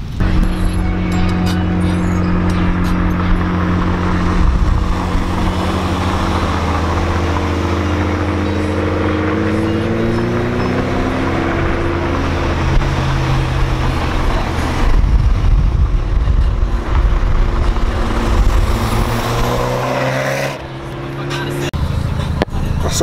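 Steady engine and road drone from inside a car cruising through downtown city traffic, a continuous low hum with a voice talking over it throughout.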